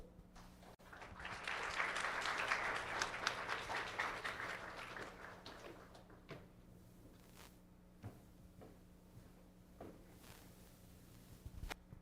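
Applause at a stage event in Guyana builds into a full round of clapping, peaking early and loud, then thinning to scattered claps and a few footsteps and knocks toward the end.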